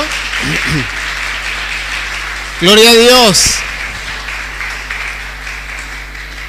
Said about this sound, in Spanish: Aplauso al Señor y le honramos por esto.